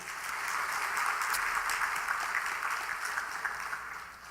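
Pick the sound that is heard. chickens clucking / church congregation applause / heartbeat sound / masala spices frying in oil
church congregation applause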